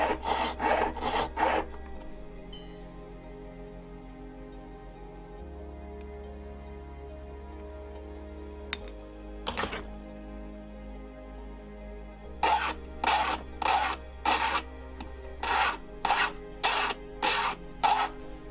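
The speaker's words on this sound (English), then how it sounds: "We prep the metal by cutting the end off and filing the sides." Gold wire is filed along its sides in a jewelry workshop, rhythmic rasping strokes in two bursts at the start and end, with a steady hum between them.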